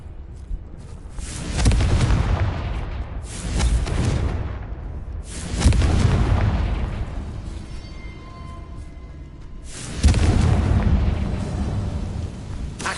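Confringo blasting spell explosions in Hogwarts Legacy: four loud booming blasts spaced a few seconds apart, each with a roaring tail that fades before the next.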